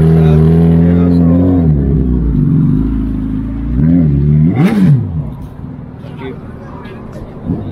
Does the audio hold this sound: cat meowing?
no